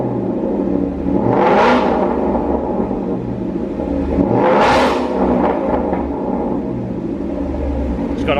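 A Honda S2000 engine revs hard twice in close succession, each surge swelling loud and bright before dropping back to a rumbling idle, with faint crackle and pops as the throttle closes.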